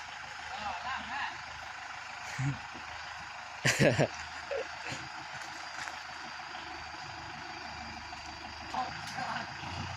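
A Kubota M6040 tractor with a trailer idles at a steady low drone while reversing out of a yard, with a few brief thumps and clanks over it and people talking nearby.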